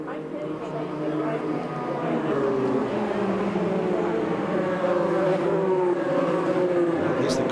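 IndyCar race cars run laps at the rain-delayed 2014 Honda Indy Toronto, making a steady, loud droning engine roar with shifting harmonic tones throughout, while a commentator's voice talks over it.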